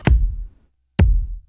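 Two heavily processed kick drum hits for a beat, each a punchy low thump with a bright attack and a long reverb tail, evenly spaced about a second apart with nothing else playing.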